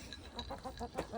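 Three chickens in a coop cluck nearby in a quick series of short, rhythmic calls, about seven in a row.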